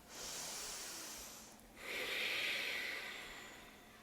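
Slow, audible breath cycle during a power yoga flow: a long airy exhale, a brief pause, then a stronger inhale-like rush, close and fairly quiet with no talking.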